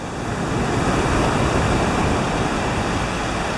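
Steady wind roars over a beach at low tide, a dense, continuous rush of noise with distant surf mixed in, loud and unbroken throughout with no voices.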